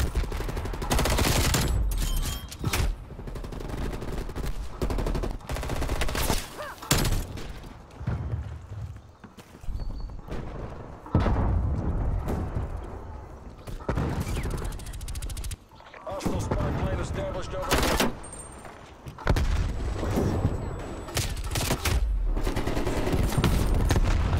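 Gunfire in Black Ops Cold War Combined Arms Domination on the Cartel map, with repeated bursts of rapid automatic shots and scattered single cracks, loud and close, broken by short pauses across the match.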